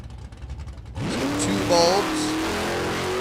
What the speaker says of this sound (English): Leland Cole in the Camaro, 1068